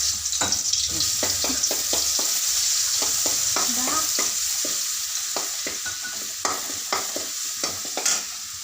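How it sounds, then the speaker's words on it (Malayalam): Asafoetida (and onion) frying in oil in a pan for rasam, a steady close sizzle with repeated scraping stirs of a spoon against the pan throughout. "കട്ടക്കായ ഇട്ട് അതൊന്ന് മൂക്കട്ടെ"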